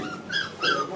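Rescued dogs whimpering inside a clandestine warehouse: two close, high-pitched whines rise and fall over a steady hiss of background noise.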